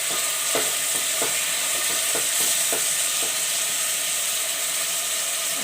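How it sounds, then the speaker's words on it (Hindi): Minced meat (keema) fries lightly in a pan with a steady, loud sizzle. Intermittent scraping clicks from stirring sound close by, and no one speaks. "हम हल्का सा भूनेंगे।"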